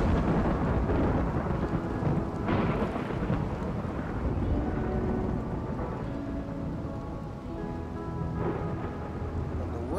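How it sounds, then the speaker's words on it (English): Steady heavy rain and rolling thunder fill a Rimworld game scene, a continuous loud wash of downpour with deeper rumbles swelling through it. "this damn rain's gonna throw off his aim"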